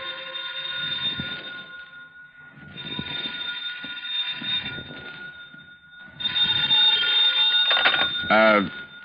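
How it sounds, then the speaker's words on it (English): An old-style telephone rings in a radio drama, three long buzzing rings with pauses between, followed by a voice beginning to speak. "Then the phone rang."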